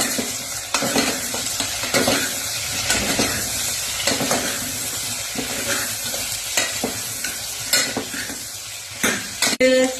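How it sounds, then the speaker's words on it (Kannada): Whole spices such as cloves, cinnamon, cumin and fennel sizzle steadily in hot oil while a utensil scrapes and stirs them in the pan, with a few sharper metallic clinks near the end, close and loud with no talking. "ಎಲ್ಲ ಮಸಾಲೆ ಸಾಮಾನು ಹಾಕಿ ಫ್ರೈ ಮಾಡಿದ್ದೀನಿ"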